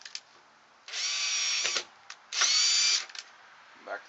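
A power drill drives screws into a hinge on a wooden generator enclosure, two loud close bursts of about a second each separated by a short pause, with small clicks and handling noises between them.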